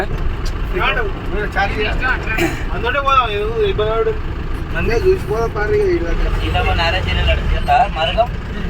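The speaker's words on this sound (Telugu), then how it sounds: "traffic jam" Stopped trucks, buses and cars in a traffic jam near Parnasala, Bhadrachalam, fill the roadside with a steady engine rumble and an occasional brake hiss. Voices talk nearby throughout.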